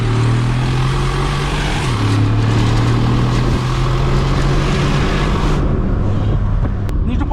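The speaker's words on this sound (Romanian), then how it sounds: "Hai să ascultăm un pic V8-ul ăsta." A Mercedes G500 4x4² V8 engine idles and revs in a loud, steady drone with a deep low hum that shifts pitch a few times.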